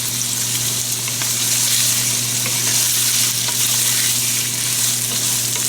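Garlic and fennel seeds fry in a pan, producing a loud, steady close-up sizzle with a constant low kitchen hum underneath.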